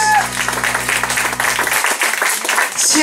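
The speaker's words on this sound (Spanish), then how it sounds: "Un aplauso a Jesús." A church congregation applauds in a loud, thick wash of clapping that carries through most of the clip, with a voice speaking over it.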